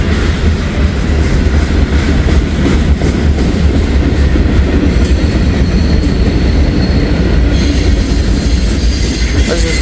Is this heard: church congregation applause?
no